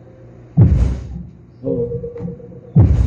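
Deep, heavy bass thumps from a subwoofer amplifier swell in a few loud bursts, with someone briefly speaking between them.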